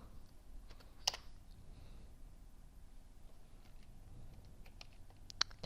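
Fingers type on a computer keyboard in a run of quiet, irregular key clicks, with a couple of sharper taps standing out. The sound is faint and close, with no one talking.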